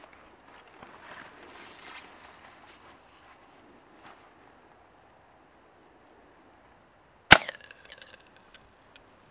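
A fully 3D printed gun fires 3D printed ammunition: one sharp, loud crack with a brief ringing tail, after several seconds of faint room noise, with no talk.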